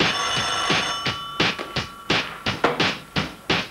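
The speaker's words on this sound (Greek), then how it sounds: "Τηλέφωνο πάρ' το γιατί εγώ θα το βρίσω." An old telephone bell rings briefly at the start of a 1982 recording, then gives way to a run of sharp, evenly spaced knocks and taps, loud and close.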